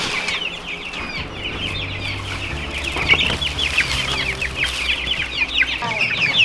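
A flock of young chicks, about three to four weeks old, chirp and cluck nonstop in a dense, close chorus over a low background hum, with no talking.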